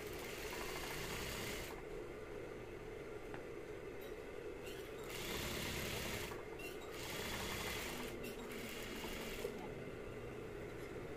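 A sewing machine stitches a tote bag in quick bursts, its faint mechanical whir starting and stopping several times in a quiet room.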